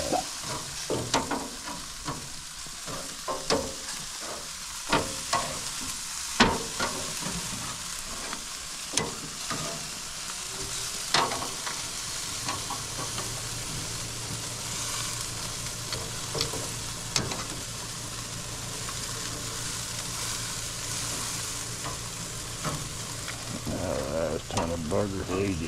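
Wagyu beef and pork burgers sizzle steadily on a grill, a continuous crackling fry punctuated by scattered clicks and knocks as the patties are handled and turned.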